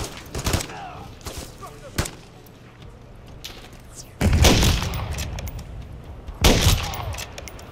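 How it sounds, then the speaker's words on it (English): Grenade blasts and bursts of gunfire in the video game Modern Warfare III, with sharp shots early on and two heavy, booming explosions near the end, loud and close. "He's yeeting grenades at me."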